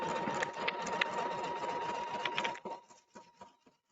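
An embroidery sewing machine stitches out a flower design with a steady, fast mechanical whir and needle chatter that runs continuously, then slows and stops near the end.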